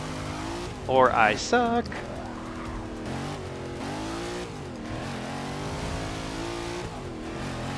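A race car in Forza 6 roars steadily as its engine revs up and down through shifts, with a sharp tire squeal under braking early on; someone talks briefly over the loud, continuous engine noise.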